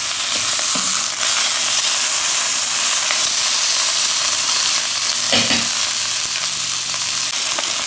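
A stuffed beef roll sears in a very hot pan, giving a steady loud sizzle and hiss of frying fat with occasional sharper spatters and pops, with no talk.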